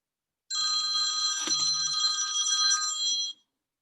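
A telephone rings in a classroom lecture setting, one steady electronic trill lasting about three seconds, clear and fairly close, starting and stopping abruptly with no talk over it.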